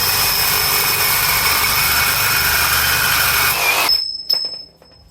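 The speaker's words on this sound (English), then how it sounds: "driving a 3/8 by 12 GRK into a 6x6" Loud, steady whine of a Metabo HPT T-PWR 36V cordless power tool driving a 3/8 by 12 GRK screw into a 6x6 post, running continuously for about four seconds before stopping abruptly, followed by a couple of faint clicks.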